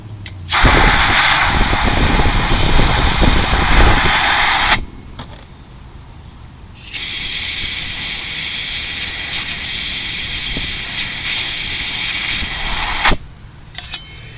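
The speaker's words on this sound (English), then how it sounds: "I put the air in it without the valve in it. This seems to work good, just full tank pressure." Compressed air from a full tank blasts into a Harley motorcycle rear tire with the valve core removed, a loud close roaring hiss in two long bursts separated by a brief quiet pause.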